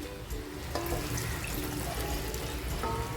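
Hot water poured into a pot of Kolhapuri mutton curry, a steady close gurgling pour with faint splashes, no talking.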